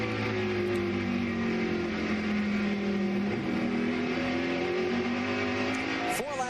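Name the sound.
NASCAR stock cars racing at Martinsville Speedway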